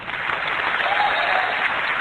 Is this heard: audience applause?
yes